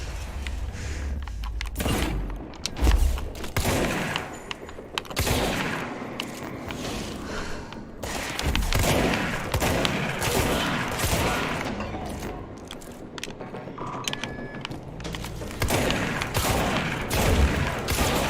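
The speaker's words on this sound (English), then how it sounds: "I love the spread shots." Spread-shot weapon fire in the video game Control, repeated bursts of gunfire scattered across the passage amid game effects and clatter, fairly loud and continuous.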